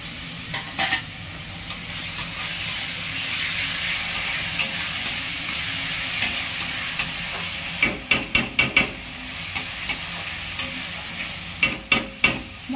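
Chopped tomato with turmeric and spices frying down in a pan for a fish curry, a steady soft sizzle broken by bursts of rhythmic scraping and stirring clatter from a spoon against the pan.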